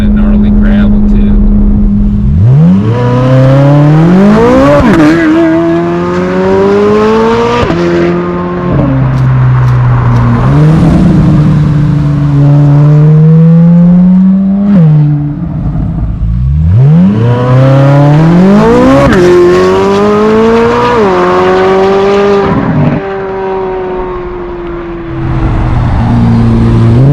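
A 2024 Corvette Z06 revs hard on loose gravel, its engine note climbing and falling in repeated loud surges as the tires spin, close and continuous for the whole stretch.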